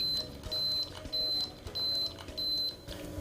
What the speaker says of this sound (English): When it's finished brewing, the Cup-O-Matic will beep 5 times.